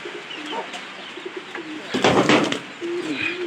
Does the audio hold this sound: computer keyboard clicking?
no